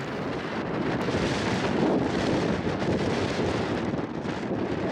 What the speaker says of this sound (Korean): 무엇보다 옷깃을 뚫는 바람